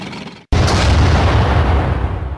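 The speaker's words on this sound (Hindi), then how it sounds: "सुनो, उस पत्थर को टैंक से उड़ा दो।" A tank blows up a stone: a sudden loud, deep boom hits after a brief quiet moment, then a rumbling roar that slowly fades.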